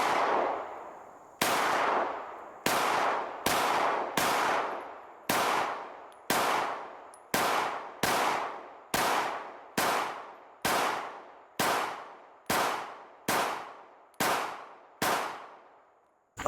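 Fourteen pistol shots from a Springfield Echelon ring out one at a time at a steady pace, each a sharp crack with a metallic clang off steel targets that rings and fades before the next.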